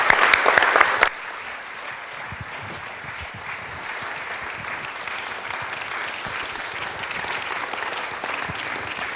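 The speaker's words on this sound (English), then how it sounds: "Let's give them a big round of applause." An audience applauds the Interfaith Amigos at an evening event, starting with a brief louder burst and then settling into steady, sustained clapping from a crowd that continues throughout.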